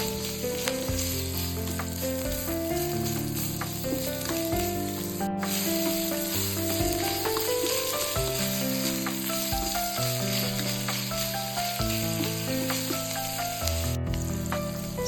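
Onions sautéing for a beef and broccoli dish sizzle steadily and loudly in a pan throughout, with a constant frying hiss and occasional stirring, and no voices.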